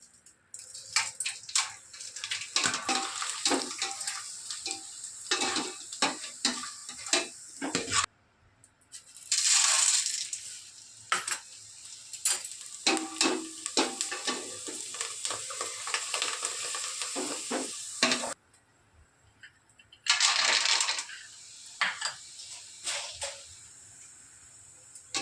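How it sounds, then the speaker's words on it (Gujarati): Poha (flattened rice) fries in hot oil for a murmura chivda snack, giving a loud, close, bubbling sizzle with stirring scrapes and clinks. Two brief pauses break it, each followed by a fresh burst of sizzling. "તો હવે આપણે પહેલાં તો આ પૌવા તળશું, તો એના માટે આપણે તેલ મૂકશું।"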